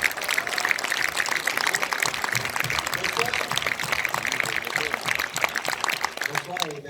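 A film premiere audience applauds in a dense, steady wash of clapping, with voices talking through it.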